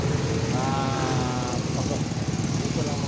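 A motorized tricycle engine drones steadily up close, a loud buzzing putter heard from on board, with someone talking over it.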